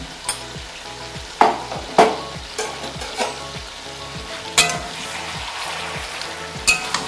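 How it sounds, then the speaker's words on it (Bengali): Marinated chicken with turmeric and coriander powder sizzles in a pan for Sindhi chicken curry, a constant frying hiss punctuated by sharp clinks and scrapes of a spoon stirring against the metal. "খুব ভালো করে এটা নাড়াচ্ছি।"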